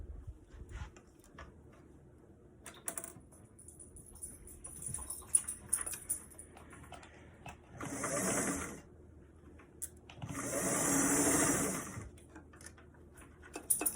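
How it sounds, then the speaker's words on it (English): A sewing machine stitches a fabric bucket hat in two short runs, a brief burst followed by a longer steady whir, with quiet pauses around them. "I'm going to put it in the machine and I'm going to stitch along the line once again."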